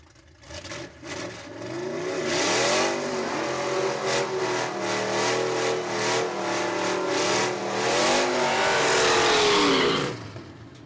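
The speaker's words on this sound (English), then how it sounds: "Mustang in the left-hand lane, Mustang in the right-hand lane." Two Mustangs drag racing down a strip at Saskatchewan International Raceway, engines roaring past in a loud continuous rise, with crackling gear changes and a fading tail as the cars pull away.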